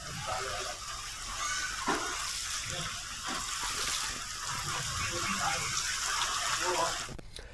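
Heavy rainwater gushing and pouring into the rooms of a police station, a steady broadband rush of water with splashing, continuous and fairly close, with faint voices in the background.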